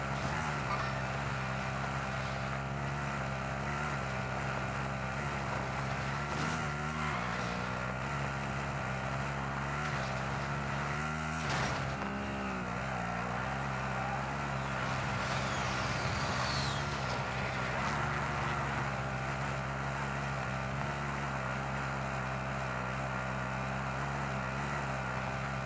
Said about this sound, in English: Enemy vehicle!